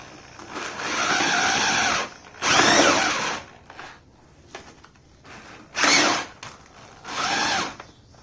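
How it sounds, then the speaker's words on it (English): A power drill whirs in several bursts of a few seconds each, mixing thick concrete, with quiet pauses between. "I'm gonna fix my drill"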